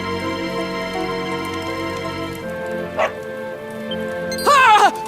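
Dog barking in the video game Dragon Quest XI: a short yelp mid-clip and a louder burst of bow-wow barks near the end, over steady game music.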